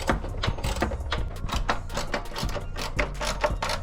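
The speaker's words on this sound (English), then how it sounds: "The last bolt's going on." A last bolt being tightened on a Grimmspeed cold air intake, a rapid run of ratchet clicks at close range, quiet and rhythmic.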